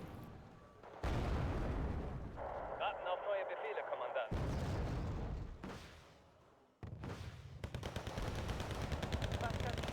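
Artillery fire support shelling in a video game, with heavy booms and bursts of gunfire crashing in repeatedly across the clip and a short lull in the middle, loud and close.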